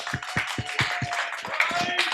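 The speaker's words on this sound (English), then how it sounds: "round of applause for the old boy." A small crowd at a brewery panel event claps for a brewer, several quick distinct claps ringing out in a short burst with a busy room murmur underneath.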